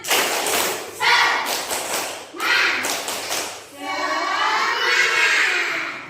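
A classroom of students and their teacher in an Indonesian school lesson do a rhythmic clapping chant, with loud bursts of claps and shouted voices repeating in a steady pattern, close and energetic.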